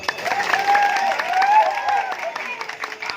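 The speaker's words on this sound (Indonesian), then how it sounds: "tepuk tangannya dong." Audience clapping at a Balinese community gathering, brief and uneven, mixed with voices and a tonal melodic sound running over it, moderately loud throughout.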